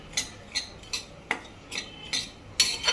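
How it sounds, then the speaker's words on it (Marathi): Semolina (rava) roasting with a little oil in a pan, stirred with a spoon: regular scraping strokes about every half second, close and clear, with no talk. "थोडंसं तेल टाकून आपण चांगला भाजून घ्यायचा रवा"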